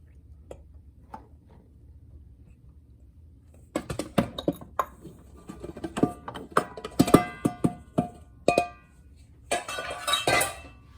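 A whisk or spoon clinks irregularly against a bowl while flour is mixed into lemon bundt cake batter, with a quiet stretch before the close, rapid, tinkling taps begin.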